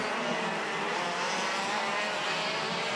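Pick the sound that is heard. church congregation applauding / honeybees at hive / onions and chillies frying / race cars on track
race cars on track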